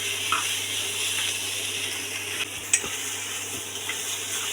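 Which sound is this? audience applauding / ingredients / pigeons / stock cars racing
ingredients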